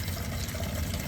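Water poured onto parched, dry soil makes a short, steady, close splashing wash, continuous and unbroken.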